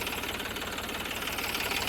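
A Massey Ferguson 246 tractor drives a Shaktiman rotavator through a field, giving a continuous loud knocking engine drone with a steady mechanical clatter and no voices.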